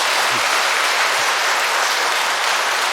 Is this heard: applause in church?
yes